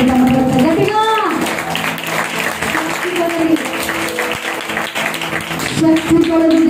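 A worship congregation claps loudly and steadily throughout, a dense wash of applause under a preacher's voice and bursts of singing.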